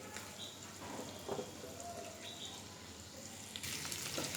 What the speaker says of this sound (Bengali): যখন বাটারটা একটু মেল্ট হবে তখন আমি এতে দিয়ে দিব রসুন কুচি 3 কোয়া, এটা জাস্ট একটু ফ্লেভার আসা পর্যন্ত একটু ভেজে নিতে হবে।